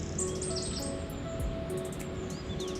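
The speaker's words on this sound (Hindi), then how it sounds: "परिंदों की चहचहाहट" Several birds chirping and tweeting in quick, scattered calls over a soft, steady background hum of a flowing river in Naltar Valley, Pakistan, fairly faint and outdoors.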